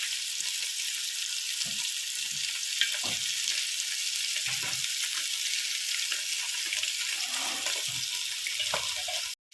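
Pieces of fish fry in hot oil in a pan, giving a continuous loud sizzle close up, broken by occasional soft knocks and stirring sounds.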